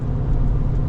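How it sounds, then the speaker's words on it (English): A Ford F-250 Tremor's 7.3-liter gas V8 works under load while towing up an incline, a steady low-pitched drone with road noise, heard briefly from inside the cab. "you could just let this motor kind of like work a little bit and it'd be completely adequate"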